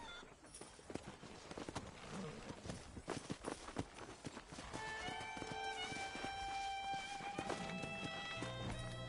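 Horse hooves clip-clop in the Red Dead Redemption video game, a quick irregular patter of running hoofbeats that grows denser midway, with tonal game sounds joining in later.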